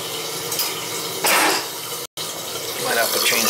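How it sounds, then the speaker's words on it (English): An old, leaking toilet with rotted parts is flushed, a brief surge of rushing water followed by steady trickling and refilling, with some talk in the background. "flush it and we'll see if it leaks."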